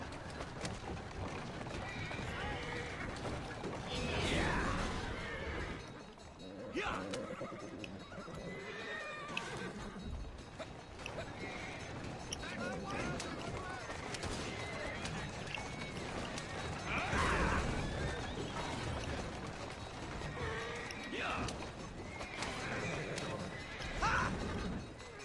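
A horse in the video game Assassin's Creed Syndicate neighs and whinnies repeatedly over clip-clopping hooves, with occasional mechanical clatter and a voice speaking now and then.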